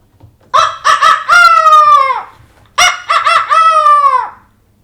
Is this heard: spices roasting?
no